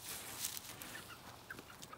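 A hen clucks softly in a pen on a bird farm, a few faint short clucks over quiet background noise.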